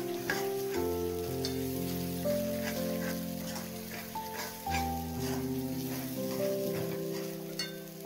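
Spices sautéing in a pan for paneer masala, a steady close sizzle and crackle running throughout with background music over it.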